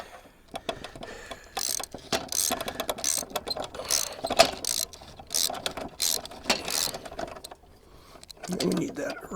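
A hose clamp being tightened on a J-pole antenna gives a fast, uneven run of clicking ratchet sounds in bursts over several seconds, close up, with a short pause and a brief voice near the end.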